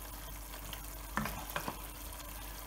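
Fish head and moong dal being stirred in a pot, a quiet bubbling sizzle with a couple of brief spoon scrapes and knocks near the middle, close but soft, no voices.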